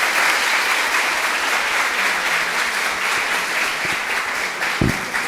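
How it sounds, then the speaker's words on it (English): Steady applause from a conference audience at a space talk, a dense even wash of clapping that continues throughout with a brief thump near the end. "Un applause."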